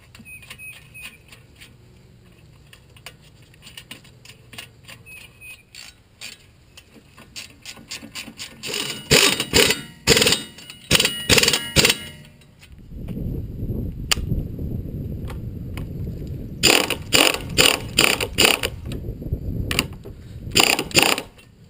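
Ratchet clicking while tightening the bolts on the front strut of a VW Jetta TDI, heard as rapid bursts of close metallic clicks. Pauses and mechanical rubbing fall between the bursts.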